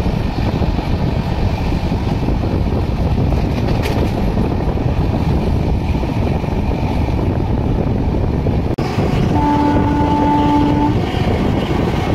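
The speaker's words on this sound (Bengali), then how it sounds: "ট্রেন পার হচ্ছে প্রধান খুন্টা জংশন।" Howrah–Lalkuan superfast express passing through a railway junction in Jharkhand, heard as a loud, steady rumble of wheels and carriages close by, with a brief whistle-like tone near the end.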